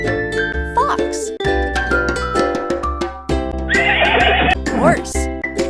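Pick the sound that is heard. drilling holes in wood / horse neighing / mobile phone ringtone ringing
horse neighing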